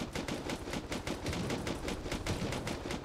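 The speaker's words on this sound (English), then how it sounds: "I hear shooting." Rapid automatic gunfire rattles continuously in a video game base raid, dense and evenly paced bursts at close range, with no talk over it.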